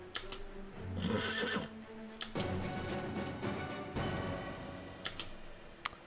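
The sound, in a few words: horse neighing in the video game Pathfinder: Wrath of the Righteous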